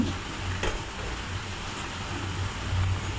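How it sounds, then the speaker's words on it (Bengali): A pot of simmering village-style curry is stirred on the stove, giving a steady soft bubbling hiss with a few faint scraping touches, no voices present. "চুলায় ঢাকনা উঠিয়ে তরকারিটা একটু নেড়ে ছেড়ে দেব"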